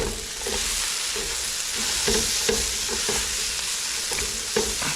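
Chili powder, oregano, crushed leaves, salt and black pepper toasting in a hot pan for a Cuban ropa vieja, a steady close sizzle with faint stirring scrapes throughout, no talking.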